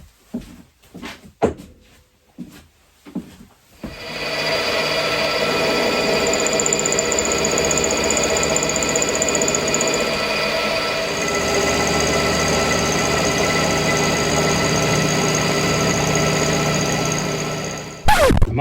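A milling machine cuts steam locomotive crank webs for a Maid of Kent engine on a rotary table, a steady loud whine with a ringing cutter tone that runs unbroken after a few opening clunks and knocks.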